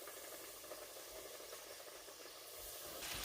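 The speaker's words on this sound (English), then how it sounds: "So I'm going to keep frying up my chicken tenders until they're all done." Flour-coated chicken tenders frying in hot oil, giving a faint, steady bubbling sizzle and hiss that carries on evenly throughout with no voices.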